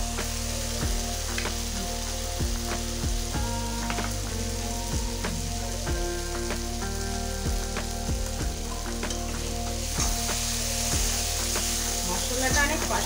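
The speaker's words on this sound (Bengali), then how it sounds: "যতক্ষণ না তেল ছাড়ছে ততক্ষণ কষাতে হবে।" Spices and cabbage roll filling fry in hot oil with a constant loud sizzle, while a spoon stirs and scrapes the pan at irregular intervals.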